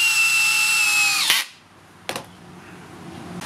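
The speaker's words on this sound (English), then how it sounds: "We're going to be driving some 8-inch SDWS strong drive screws from Simpson Strong Tie" A Bosch cordless drill drives an 8-inch Simpson Strong-Tie SDWS structural screw: a loud, close, high-pitched motor whine rises and winds for just over a second, then cuts off, followed by a couple of faint knocks in near quiet.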